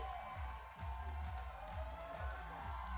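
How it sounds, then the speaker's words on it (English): Small crowd at a semi-final climbing competition cheering and clapping in support, a steady mix of shouts and applause in the background, fairly faint throughout. "you can hear them in the background. They're definitely voicing their support"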